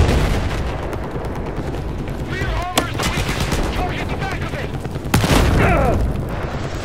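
A C4 charge detonating against a tank in Battlefield 4, with booming blasts at about 2.8 and 5.2 seconds over steady gunfire and battle noise, and voices shouting underneath.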